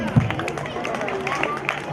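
Crowd at a Pongal festival sports contest in Kuruvinatham clapping to cheer on women runners, with steady scattered handclaps mixed with background chatter.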